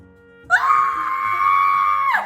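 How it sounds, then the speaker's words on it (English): A person lets out one long, loud, sustained scream lasting nearly two seconds, held at a steady pitch with a sharp onset and a trailing end, heard alone. "Stop screaming."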